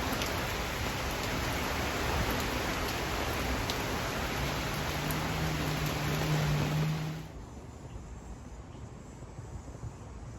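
Steady rain falling on outdoor garden plants, a loud, even hiss of drops that continues for several seconds and then abruptly drops to a quieter patter.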